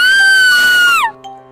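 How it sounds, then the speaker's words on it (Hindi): A woman's high, piercing scream sustains loudly and close, then bends sharply downward and cuts off, leaving a faint tail, a horror story sound effect. "तभी किसी औरत के चीखने की आवाज आती है।"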